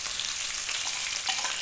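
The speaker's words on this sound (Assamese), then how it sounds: "তাত তেলখিনি দি কাটি থোৱা পিঁয়াজখিনি দি দিছোঁ" Chopped onions fry in hot oil in a wok, giving a brief, close, continuous crackling sizzle with a faint stirring scrape and no speech.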